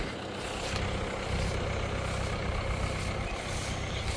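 A farm tractor with its side shields removed runs steadily while chopping second-cut haylage in a hay field, giving a continuous, fairly even engine rumble with no talking.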